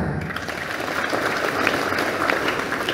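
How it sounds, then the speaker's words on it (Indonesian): An audience gives steady, lively applause during a religious talk, dense clapping throughout with a few sharper claps standing out near the end. "Tepuk tangan."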